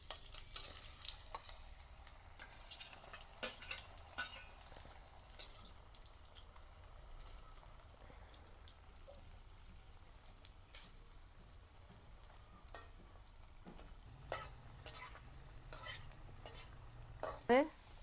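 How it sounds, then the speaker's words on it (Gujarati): Potatoes frying in oil in a Gujarati home kitchen for cauliflower-potato shaak, a steady low sizzle with occasional clinks and scrapes of a spoon stirring the pan. "હવે આપણે બટેકા તરશું।"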